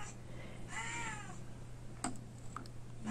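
A pet cat meows once indoors, a drawn-out, wavering cry at moderate loudness, followed by a few faint clicks and small noises against a low steady hum.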